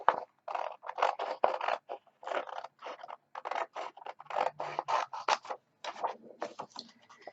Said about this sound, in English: Now we're going to cut out our dice, our cubes. I'm going to go straight across here